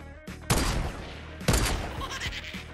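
Gunfire in the Fortnite video game, two loud bursts of shots about a second apart over a continuous noisy game background, with no talking.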